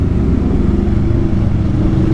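Engines of a group of four motorcycles rumble steadily and loudly, close by, while riding on a road in Pampanga toward Altezza Cabins.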